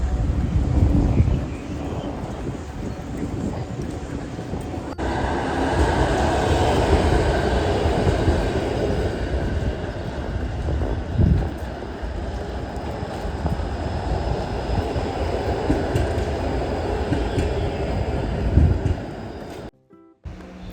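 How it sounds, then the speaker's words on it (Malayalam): A long, steady rumble of a tram rolling past on the street, with wind buffeting the microphone and a brief drop to near silence at the end. "ട്രാം കണ്ടോ റോഡിലൂടെ നടന്നു പോകുന്നു."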